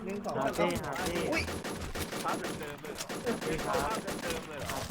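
Rapid bursts of video game gunfire crackle and rattle steadily throughout, dense and fairly loud, with several players talking excitedly over the shooting.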